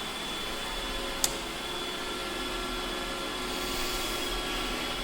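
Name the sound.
Dremel rotary tool rounding off a key edge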